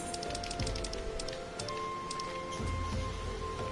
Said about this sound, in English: It was raining in the Crystarium.